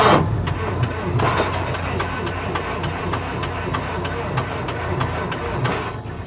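A Piper Tomahawk light aircraft engine cranking over in a rapid, regular chugging rhythm that keeps going without clearly catching, heard close and fairly loud, with someone speaking briefly over it.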